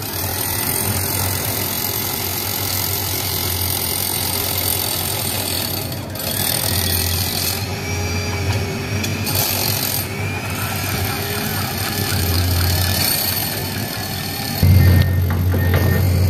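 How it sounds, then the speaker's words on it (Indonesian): Drilling by two workers beneath a launcher machine at a toll road bridge construction site, a steady grinding mechanical drone running throughout with a low engine hum, rising briefly louder near the end. "sedang melakukan pengeboran"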